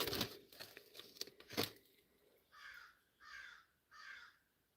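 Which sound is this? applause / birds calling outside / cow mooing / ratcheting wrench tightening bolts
birds calling outside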